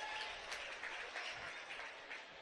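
A girls' high school basketball crowd in a gym claps and cheers after a foul, a sustained burst of applause at moderate distance that fades slightly toward the end.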